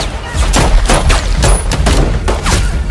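Pistol gunshots in an action film scene, a rapid series of loud sharp cracks repeating through the moment over a dense, rumbling battle backdrop.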